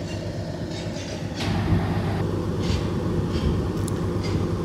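A Canadian Pacific Railway train rumbles past on the tracks at Elliotsville, Maine, its rolling wheels and rattling cars growing louder and steady, with occasional metallic squeaks.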